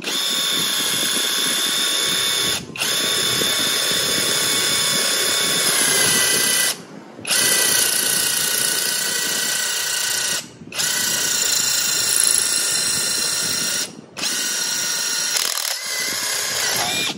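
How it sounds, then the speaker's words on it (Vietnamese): An electric power drill bores into concrete, a loud, steady high-pitched whine with a gritty grinding edge, running in long stretches broken by several brief pauses where the trigger is released. "sẽ thử khoan vào bê tông nhé"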